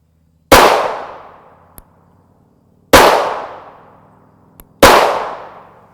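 A 9mm pistol fires Winchester M1152 ammunition during a gel test, three loud, sharp reports spaced about two seconds apart, each trailing into a short decaying echo with a faint click after, and no speech.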